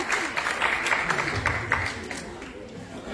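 Applause from the audience at a Technovation Girls celebration event, a moderate spread of clapping that fades over a few seconds, with some voices underneath.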